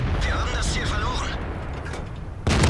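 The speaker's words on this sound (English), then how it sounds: "And then I put another shot into him, and I set him on fire again." A Panther II medium tank's main gun fires in World of Tanks, one sudden loud blast that cuts in at the end after a low engine rumble with someone talking over it.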